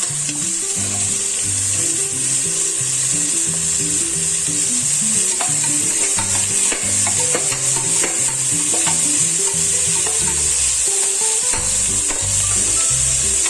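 Big onions fry and get stirred in a pan while a Tasty Mutton Vellai kuruma is cooked, with steady loud sizzling and repeated scraping strokes across the whole stretch.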